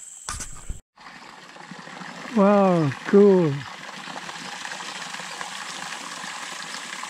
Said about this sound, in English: This mountain spring water. Very cool and refreshing.